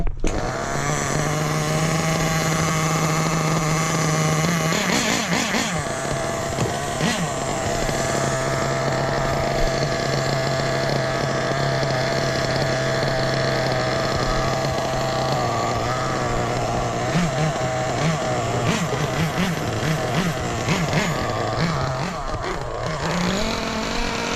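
A Hobao Hyper VS2 nitro RC car engine during break-in runs continuously, a loud close buzzing drone with throttle blips and rising and falling revs throughout, no voices.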